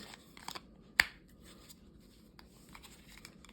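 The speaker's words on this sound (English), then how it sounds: "The knife does secure fairly well in there. You can hear that click in." A CRKT S.P.E.W. knife with a D2 blade snaps into its sheath with one sharp, close click, followed by faint handling rustle.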